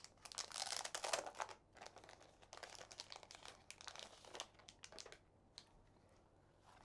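Crinkly plastic wrapping being torn and peeled off a deck of large cards, close and quiet, in irregular crackling bursts with no talk.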